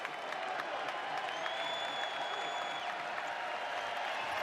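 Basketball arena crowd during a men's college game between Northern Illinois and Pittsburgh, a steady broad roar of cheering and applause throughout, with a faint whistle-like tone partway through.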